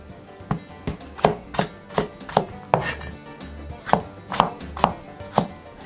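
A knife cuts vegetables into long strips on a cutting board, about fourteen crisp, evenly paced thunks close up with no talking.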